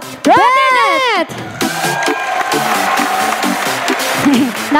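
A game-show audience claps briefly to vote for a contestant, with scattered applause and crowd noise mixed with a host's loud, drawn-out voice and ongoing talk.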